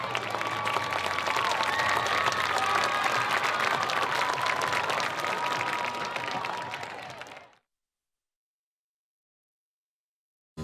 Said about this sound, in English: Let's give her and her coach a big round of applause.